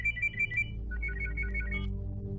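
A mobile phone ringtone plays a repeating electronic melody of short bright tones in two phrases, clear and fairly close over a low steady hum in a Bollywood film scene.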